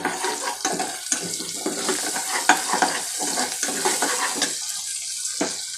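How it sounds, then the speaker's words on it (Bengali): Noodles with egg are stir-fried in a pan, a spatula scraping and tossing in quick, uneven strokes over a soft sizzle, close and fairly quiet. "আমি 1 পিস ডিম দিয়ে নুডলসটা রান্না করব।"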